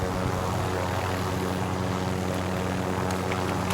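Helicopter in a military shooter video game returning to base after a cargo drop, its steady rotor and engine drone holding loud and constant throughout, with no talk over it.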